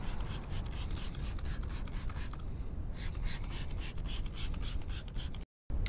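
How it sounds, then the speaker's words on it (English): A brush scrubbing a dirty car tire coated in a dollar-store wheel and tire cleaner, quick close rasping strokes in a steady rhythm, a brief pause midway and a short cut near the end, with no talk. "That other wheel and tire cleaner hasn't done much, but we are gonna scrub it and give it a chance like the other one."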